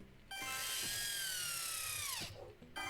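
Power drill sound effect from the Nintendo Switch 2 Welcome Tour game: one sustained whirring buzz that holds steady for about two seconds, then winds down, loud and close with no talk.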